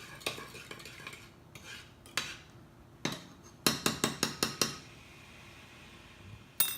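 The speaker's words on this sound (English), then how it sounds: "And I'm gonna put it on my stove top." A metal pot clanks and knocks onto a stove top, a run of sharp clinks and taps in quick succession, close by, with no talking.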